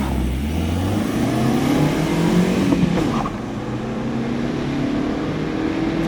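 Toyota Starlet EP91 hatchback accelerating hard through the gears on a timed run, a loud, close engine note climbing in pitch with shift breaks, then continuing steadily.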